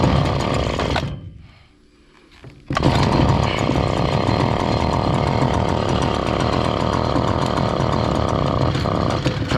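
A Stihl FS70R string trimmer with a no-power fault runs its small two-stroke engine, briefly dropping away before surging back and holding a loud, steady buzzing drone that bogs rather than revving.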